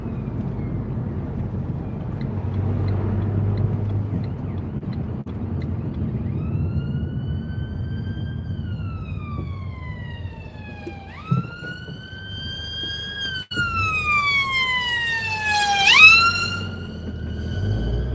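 An ambulance siren rises in from a distance behind a car on a UK road, its wailing tones sweeping up and down and growing louder and closer over steady road noise.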